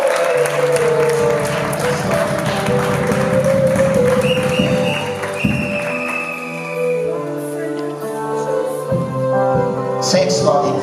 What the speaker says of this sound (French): Applaudissez le Seigneur pour l'alliance.